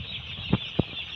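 Broiler chickens in a poultry house give two short, distinct clucks over a constant fan-like hum, with no speech.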